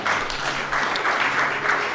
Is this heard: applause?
yes